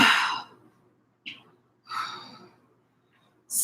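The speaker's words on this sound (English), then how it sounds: "I'm sorry, I'm yawning." A person lets out a long yawn during a leg workout, an airy exhale that fades out, followed by a few softer breathy bursts.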